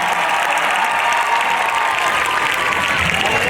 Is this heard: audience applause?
yes